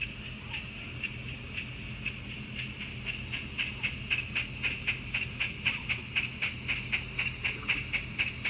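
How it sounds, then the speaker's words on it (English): An OO9 narrow-gauge model train pulls away on a small layout, its wheels clicking in a regular rhythm that grows louder and quicker over a faint motor hum. "the train departs up the line"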